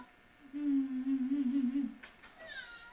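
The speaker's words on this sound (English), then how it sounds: "Little kitten, meow. Meow." A long, drawn-out meow from a small cat sounds close, followed by a couple of shorter, higher cries.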